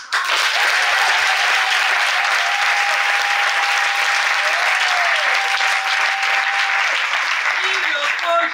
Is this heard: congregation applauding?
yes